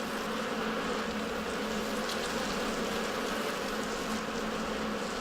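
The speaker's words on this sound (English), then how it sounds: "All bees are dedicated to the colony. At times vibrating their bodies to produce heat" A forest bee colony hums at its nest, the workers vibrating their bodies in a dense, steady drone of many insects, close and unbroken from start to finish.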